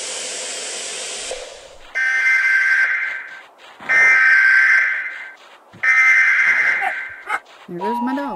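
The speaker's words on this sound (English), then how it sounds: "That siren, that alert thing that went off, used to scare me as a kid" A siren alert in the Siren Head horror video game blares in repeated loud, harsh bursts. Each burst lasts about a second and a half, with pauses between them, and a voice is heard near the end.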